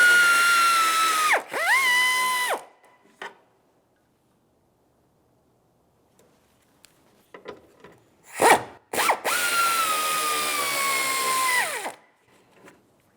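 Cordless power tool spinning out 13mm hood hinge bolts on a 2000-2006 Chevrolet Tahoe: two loud, sustained whirring runs at close range with descending pitch as each stops, separated by a quiet gap of faint clicks and handling.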